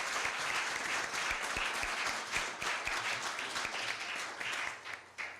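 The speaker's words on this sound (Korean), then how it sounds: "박수 부탁드립니다." An audience applauds at a university law school ceremony, sustained crisp clapping from many hands in an indoor hall, fairly distant and even, with a few louder individual claps.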